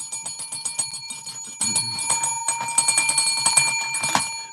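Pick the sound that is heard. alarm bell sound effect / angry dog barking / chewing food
alarm bell sound effect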